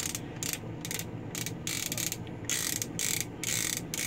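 Remington 1858 revolver cylinder, freshly oiled, spinning freely with a steady run of fine mechanical ratcheting clicks, close and fairly quiet, no talking.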